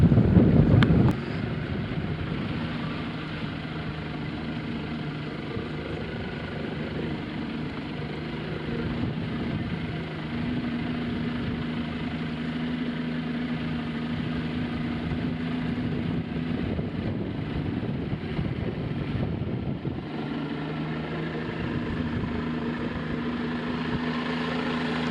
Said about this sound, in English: We're going to go motor through and get to the next section.